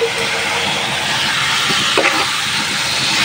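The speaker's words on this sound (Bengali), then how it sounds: "মাছটা একটু কষায় নি, 2 মিনিটের মতো কষিয়ে তারপর তুলে আলু আর টমেটো দিব" Fish frying in a pan gives a loud, dense, steady sizzle close by, with a faint knock or scrape from stirring near the middle.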